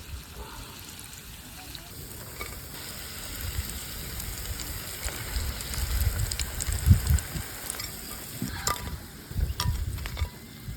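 Steady sizzling of restaurant-style fried chicken in hot oil, a continuous crackle that grows slightly louder with scattered pops, no talking.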